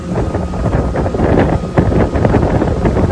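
A newly built houseboat cruises at about 20 mph with its engine near 3,500 RPM, heard as a steady rushing mix of motor drone, water and heavy wind buffeting against the microphone.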